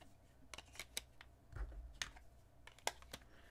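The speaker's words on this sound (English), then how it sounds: "The back of the case very easily slides open" The card-holder back of a VRS Design case for a Galaxy S23 Ultra slides open, giving a series of small, close, quiet plastic clicks and brief scraping ticks.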